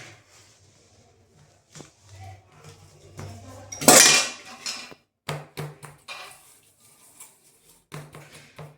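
A metal spoon scrapes and taps against a tray in short, uneven bursts while pressing suva pak sweet mixture into it, with a louder clatter in the middle and quiet gaps between.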